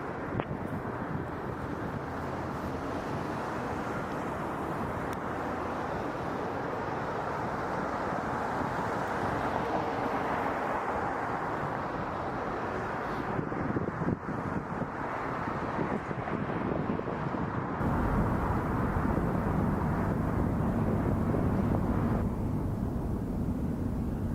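An Air Transat airliner takes off from runway 24R at Toronto Pearson at night, a steady broadband jet roar that holds loud throughout and shifts in tone partway as the aircraft powers down the runway and climbs away.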